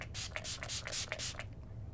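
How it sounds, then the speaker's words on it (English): Makeup setting spray is pumped from a nozzle held at arm's length, giving about five short, soft hissing mists in quick rhythm before falling quiet. "I'm gonna hold it really far away and spray."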